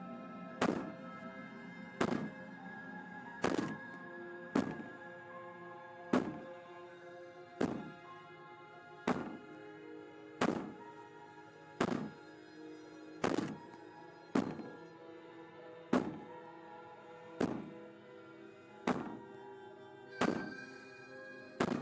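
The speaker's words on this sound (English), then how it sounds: "Maybe the banging and wailing will stop if you just don't pay attention to it." Heavy, steady banging on a door in the video game Slay the Princess: about fifteen loud, hollow thuds land at an even pace, roughly one every second and a half, with nothing else heard between them.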